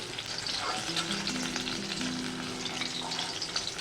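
Eggplant frying in hot oil gives a dense, constant sizzle with stirring scrapes layered on top, close and loud, along with a faint background tone.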